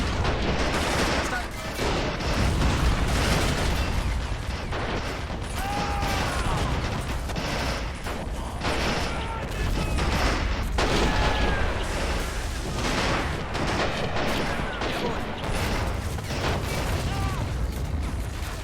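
Heavy, continuous World War II battle noise from Men of War: Assault, with T-34 tank fire, booming cannon blasts and crackling small arms merging into a loud, unbroken roar.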